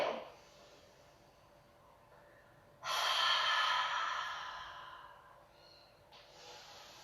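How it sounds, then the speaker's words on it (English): During a seated yogic breathing exercise, a long, loud inhale through the nose rises sharply and then slowly fades. Quieter breaths come before and after it, and there is no talking. "let's inhale through the nose, rise. Exhale."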